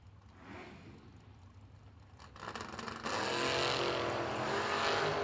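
A 68 Camaro drag racing car at a drag strip event roars from a distance, the engine noise swelling and then holding loud and steady through the second half.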